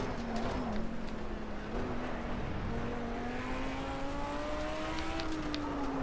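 A race car engine in a racing video game drones steadily and close, its pitch climbing slowly as the car accelerates, with no speech over it.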